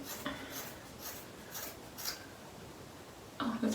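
Household scissors snip through hair at home in a few soft, rhythmic crunching cuts close to the mic. A light rustling hiss runs underneath.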